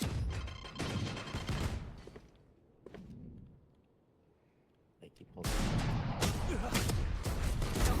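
Gunfire in the Valorant video game, loud dense bursts of shots in the opening two seconds and again from about five and a half seconds on, with a quieter gap between and voices talking over it.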